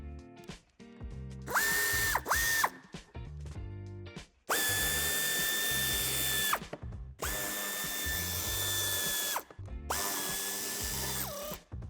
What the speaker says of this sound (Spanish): A continuación quitaremos los tornillos de ambos pasos de rueda y de la parte inferior.